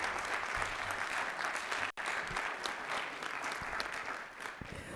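Audience at a county public school board meeting applauds steadily and fairly loudly for several seconds, a dense continuous clapping with a brief dropout partway through.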